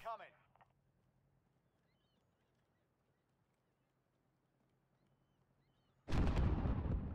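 In the Warzone video game, a loud sudden explosion bursts near the end after several seconds of quiet background hum, following a brief sound at the start.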